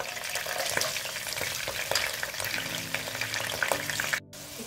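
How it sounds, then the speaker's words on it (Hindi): Ginger-garlic paste frying in oil in a pan for a dry chicken dish, a dense busy crackle with scattered stirring clicks, easing slightly before a short gap near the end. "अदरक लहसुन को भूनूंगी"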